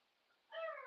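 Indoors, a pet cat lets out a brief soft meow that starts abruptly after a near-silent moment and is still sounding as it cuts off.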